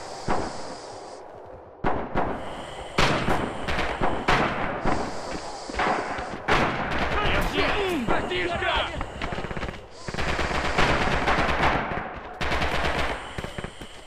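Rifle gunfire in the video game Return to Cold Steel: repeated loud bursts and rapid automatic shots, broken by brief pauses, with continuous battle noise and players talking over it throughout.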